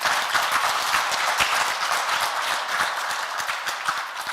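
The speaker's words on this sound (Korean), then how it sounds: "이 말이 좋으면 박수 부탁합니다" A lecture audience at a Korean morning lecture series gives sustained, dense applause, many hands clapping steadily and fairly loudly throughout with no voices over it.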